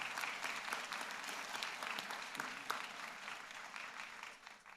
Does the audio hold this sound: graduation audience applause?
yes